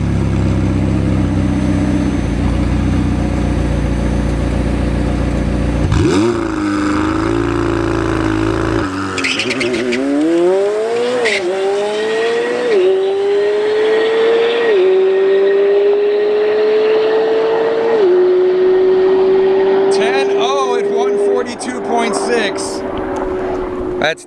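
A McLaren 720S on street tires launches down a quarter-mile drag strip on a test pass, its engine roaring loud and rising in pitch through several quick upshifts before fading into distance.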